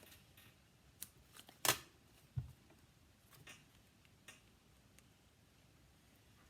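Scissors snip paper trim for a stamped card, a few sparse, quiet cuts and small crisp clicks spread out against a faint room hiss.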